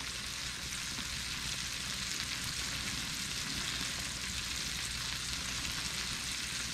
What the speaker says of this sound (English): We're gonna bring it to a simmer.